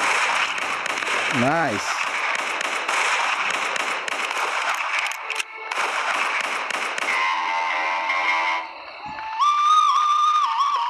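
Gunfire in the Western Sniper video game, sharp crackling shots mixed with game music and effects, with a brief voice and a rising tonal jingle near the end.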